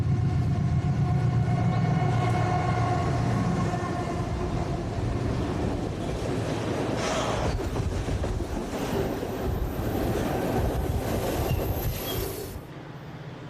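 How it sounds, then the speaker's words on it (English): A massive GE AC6000 locomotive rumbles past through Highland Falls, a loud sustained roar of engine and rolling wheels with a steady drone that fades slightly near the end. "this massive AC6000 headed south through Highland Falls"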